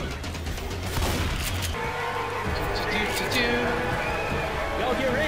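Rapid gunfire and explosions in the zombie shooter Left 4 Dead 2, a loud dense volley of shots and booms blended with game noise while players shout over it.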